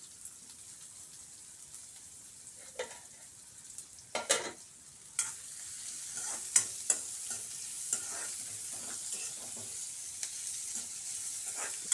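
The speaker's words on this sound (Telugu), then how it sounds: "ఈ ఆనియన్స్ అన్నీ నూనెలో మగ్గాలి." Thin-sliced onions cook in oil over a high flame, giving a soft, steady sizzle with scattered crackles and pops, plus occasional louder clinks and scrapes of stirring.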